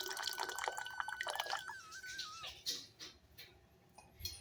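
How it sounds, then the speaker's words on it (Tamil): Tamarind water is poured into a pot of boiling sambar, giving faint liquid splashing and dripping with a thin, sliding whistle-like tone, quiet and close. "இதோட நம்ம புளி தண்ணியும் சேர்த்துக்கலாம்."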